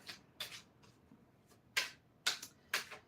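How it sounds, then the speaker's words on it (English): A deck of playing cards being shuffled by hand, heard up close as several quick riffling bursts with brief pauses between them. "Okay, so we shuffle the deck."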